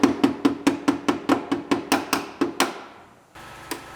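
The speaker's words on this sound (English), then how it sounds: "And then use your scraper as a hammer to tap it out of there." A scraper used as a hammer knocks a bumper bracket clip out of a Honda Civic Si in about a dozen quick, evenly spaced metallic taps, close by. The tapping stops, then one last tap follows after a short pause.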